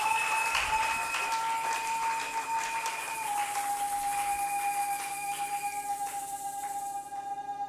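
An audience applauds at a French-language religious sermon, loud sustained clapping that fills the space alongside a steady tone, fading slightly toward the end.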